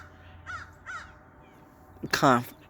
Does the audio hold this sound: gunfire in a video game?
no